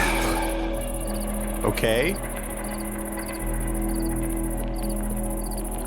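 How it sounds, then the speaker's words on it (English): Crickets chirp steadily in modded Minecraft, a continuous shrill, pulsing insect chorus that runs the whole time, with a brief spoken word partway through. "Those crickets sound like alarms."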